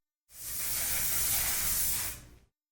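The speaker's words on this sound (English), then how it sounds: "just spray a little mist like that, let it dry." A single short burst of fine makeup setting spray hisses from a pump bottle for about two seconds, close by, then stops.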